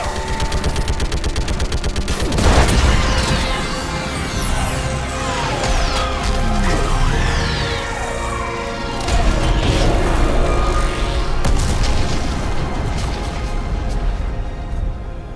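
Rapid gunfire and heavy orbital strike explosions from the video game Mass Effect 3 fill the scene, with dense bursts of shooting, booming impacts and mechanical clatter layered continuously and loudly throughout.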